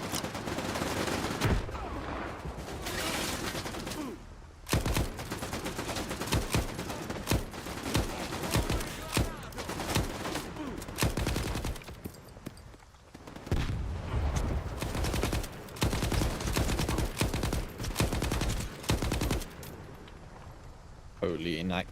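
Bursts of rapid gunfire from an inaccurate gun in a video game, loud and near, rattling in long volleys with short pauses between them, while a voice talks over the shooting.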